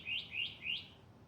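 A northern mockingbird sings at night, three quick bright rising chirps in an even rhythm, fairly close and clear over a quiet low background hum.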